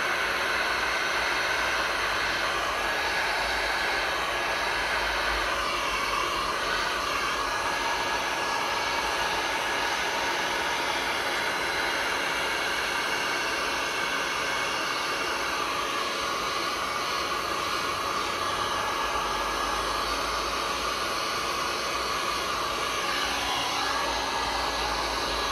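A heat gun blows hot air over a resin pour in a square tray, a continuous loud, even rushing roar that carries unchanged through the whole stretch with no talking.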